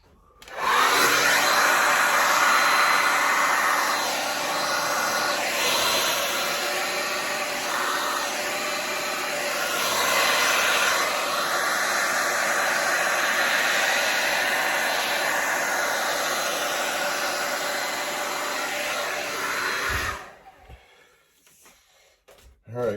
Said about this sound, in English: Hair dryer here.